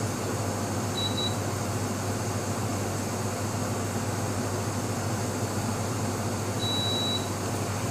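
An air conditioner runs in a bedroom, a constant loud broadband hiss and hum, with two faint short electronic beeps.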